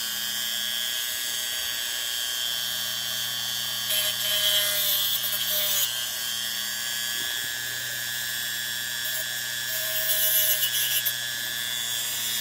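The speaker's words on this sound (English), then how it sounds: "we're going to go ahead and use motor tool with a little cutoff wheel" A rotary motor tool with a plain non-fiberglass cutoff wheel cuts away a melted part on an Atlas Dash 8-32BW model locomotive. It gives a steady, close, high-pitched whine, and the pitch strains louder in bursts as the wheel bites.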